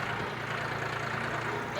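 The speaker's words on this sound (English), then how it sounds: "and Eli and James are on the tractor" Tractor engine drones low and steady at moderate distance while people ride on it outdoors, with a voice speaking over the rumble.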